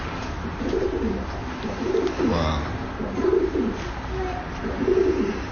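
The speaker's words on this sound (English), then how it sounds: "You're a pigeon or what?" A pigeon coos in four repeated soft, rolling phrases, close and fairly loud over a muffled background, and a person speaks briefly.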